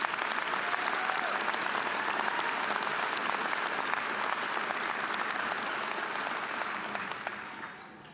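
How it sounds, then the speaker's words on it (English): Sustained applause from a large crowd at a police academy graduation ceremony, loud and dense for most of its length before thinning and fading out near the end. "So give them another round of applause."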